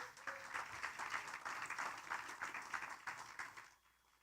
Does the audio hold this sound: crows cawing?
no